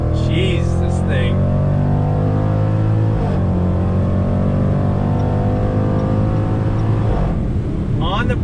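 Under full throttle, a 2020 Jaguar F-Pace SVR roars close and loud, its engine pitch rising, then dipping at two gear changes before climbing again. A voice speaks briefly over the engine.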